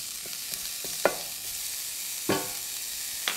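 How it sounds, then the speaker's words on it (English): A steady sizzle of minced garlic frying in a pan, with a few scraping stirs clinking against the pan at intervals. "So I'll just start by frying my garlic."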